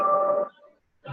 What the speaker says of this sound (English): That's a nice ringtone.